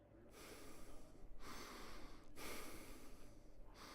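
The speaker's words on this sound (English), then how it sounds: "Breathing sound effect." Breathing made as a homemade sound effect: close, heavy breaths drawn in and pushed out in a slow repeating rhythm of about four cycles, each a breathy, rushing whoosh with no speech.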